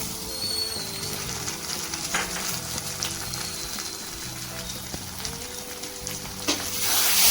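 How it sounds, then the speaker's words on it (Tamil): Steady sizzling of ginger garlic paste frying in a hot pan with onions, with occasional stirring scrapes and clinks, no talking. "அதுக்கப்புறம் இஞ்சி பூண்டு பேஸ்ட்,"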